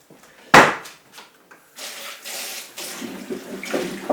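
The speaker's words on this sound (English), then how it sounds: "You roll them around and let the water run on them" Tap water runs over potatoes being rolled around by hand, with a sharp knock near the start followed by uneven splashing and rushing water bursts at close range.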